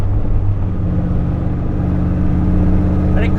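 An old Corvette drives hard through turns on twisty roads, its engine a loud, steady rumble close up, with a faint voice barely audible under the noise.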